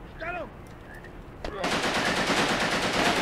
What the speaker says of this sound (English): I'll just use the machine gun and take them out.